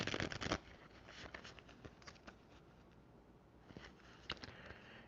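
Tarot cards are fan shuffled by hand. A loud burst of papery riffling opens, followed by softer, scattered flicks and rustles.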